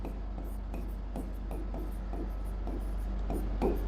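Chalk or marker scratches out strokes on a classroom board in short irregular bursts, close and clear, with no talk over the writing.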